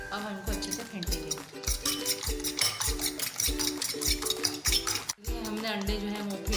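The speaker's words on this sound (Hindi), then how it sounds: "अब हम इनको अच्छे से फेंटेंगे।" A fork or whisk rattles quickly against a bowl, beating eggs seasoned with black pepper and salt, in a loud, fast, steady clatter with a brief pause near the end. Background music plays underneath.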